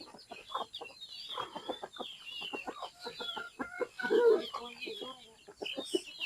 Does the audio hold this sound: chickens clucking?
yes